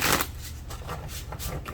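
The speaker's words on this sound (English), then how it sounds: "I'm going to just do a few shuffles" Tarot cards shuffled by hand in a deck, quick papery riffles and slaps in several short bursts, close and fairly clear with no talk.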